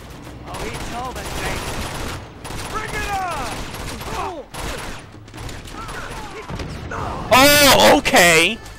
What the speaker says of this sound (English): just have a freaking tank shoot me when I'm going up the stairs